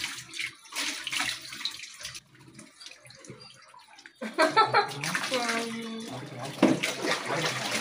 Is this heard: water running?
yes